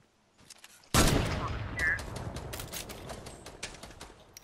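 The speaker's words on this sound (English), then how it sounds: "They're shooting at me." A sudden loud burst of Fortnite gunfire after near silence, followed by a fast rattle of shots that tails off over a few seconds, close and sharp.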